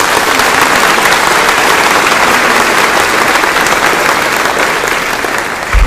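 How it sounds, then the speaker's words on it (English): A large audience at a campus talk applauding loudly, dense sustained clapping that fills the whole stretch without pause, close and full. "Let's give them a big round of applause"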